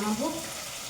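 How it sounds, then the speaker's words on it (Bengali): Fish sizzles in hot oil in a home kitchen pan, a soft steady crackle and hiss. A brief tonal sound rises over it at the start, then the frying carries on alone at low level. "এখন মাছ অর্ধেক ভাজা হয়েছে"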